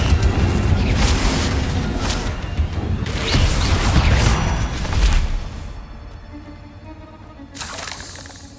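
Repeated heavy blasts of the Confringo fire spell in Hogwarts Legacy, loud booming bursts with crashing debris in a steady run of combat, fading to quieter rumble before one more blast near the end.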